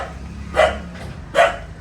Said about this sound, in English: What are you barking so much?